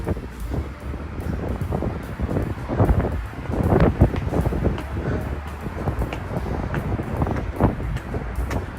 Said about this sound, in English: Wind's getting up now. Hopefully it's not blowing on the microphone too much.